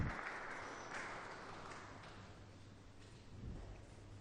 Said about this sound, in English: you just heard a very warm round of applause from the gathered political leaders and civil authorities